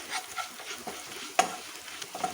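Chili powder and turmeric sizzle and crackle in a hot pan while a spoon stirs, giving a steady frying hiss broken by a sharp scrape.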